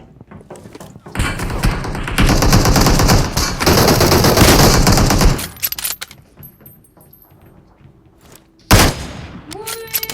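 Gunfire in PUBG Mobile, with sniper rifle shots fired from a vehicle, comes as a dense loud burst of rapid shots and clatter, then quieter rustling and one more sharp loud blast near the end.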